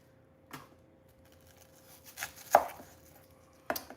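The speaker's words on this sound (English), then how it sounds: "So in this case, I'm not chopping them small because vaca frita needs them big." Onions being cut into large chunks for vaca frita, a few sharp knife knocks on a board spaced irregularly, close and fairly clear with no talk.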